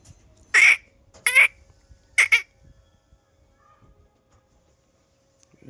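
A wild jungle fowl gives a few short, loud squawking calls close by in a quiet forest setting, three or four bursts over a few seconds with silence between them.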